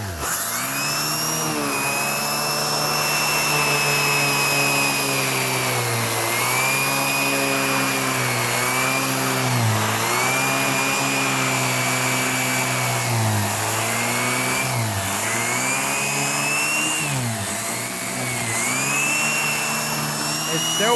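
A Hoover React Professional Pet vacuum cleaner runs continuously on a couch, a loud close motor whine with a steady high tone that dips and rises in pitch as the brush head is pushed and pulled, with a voice talking over it.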